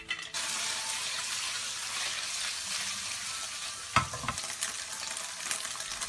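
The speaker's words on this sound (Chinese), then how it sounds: "油温5成热，放入豆腐，" Tofu pieces fry in hot oil in a wok, a steady close sizzle with a sharper burst of crackling near the middle, and no voices.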